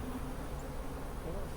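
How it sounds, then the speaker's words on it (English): Honeybees buzzing in a dense, steady drone around a hive in Florida in December, some of them robbing honey, heard close and continuous with little else over them. "there's some bees looking for the opportunity to steal somebody else's honey here"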